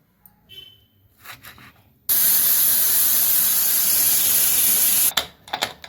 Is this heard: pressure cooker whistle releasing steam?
yes